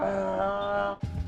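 A low, droning monster groan from Silent Hill 3 (numbody) with a steady buzzing tone, then breaking off into rough, growling bursts.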